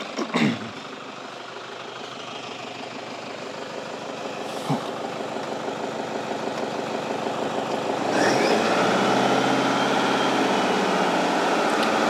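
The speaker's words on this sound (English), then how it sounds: "Let's go and rev the engine a little bit and see what happens there." A vehicle engine idles and then revs, the rumble building gradually and rising sharply near the end into a louder, sustained roar, with a few brief clunks along the way.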